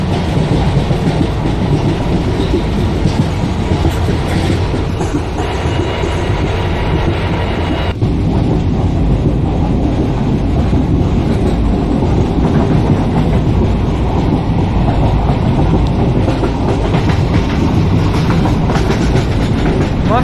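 A train in Microsoft Train Simulator rumbles steadily along the tracks on an Indian intercity express run, a loud continuous roll with wheel clatter that carries through the whole stretch without a break.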